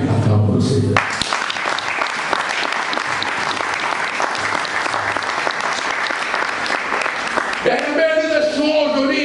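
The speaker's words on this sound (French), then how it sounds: "Acclamons le Seigneur." Church congregation bursting into dense, sustained applause during a French-language sermon, loud and close, running for about seven seconds before tapering off into other sounds.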